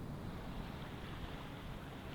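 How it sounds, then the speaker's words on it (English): Ocean surf by a fishing pier makes a steady, dense wash of crashing waves, heard broadband and continuous with wind buffeting the microphone. "Listen to the waves crash against the shore."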